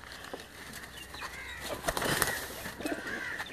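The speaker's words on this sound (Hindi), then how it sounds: "ये कुछ थोड़े से कबूतर उन्होंने बाहर निकाल के आपके शौक़ के लिए छोड़े हुए हैं" Released pigeons flap their wings in a faint, fluttering flurry with a soft coo, heard at a distance over low outdoor ambience.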